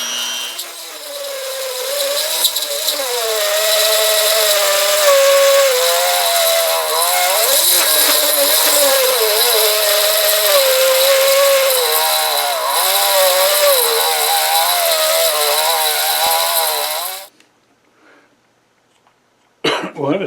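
A Hilda 220V 400W rotary grinder works a scrap piece of aluminum, its high whine wavering in pitch as it bites for about seventeen seconds, then cuts out into quiet before a brief final burst.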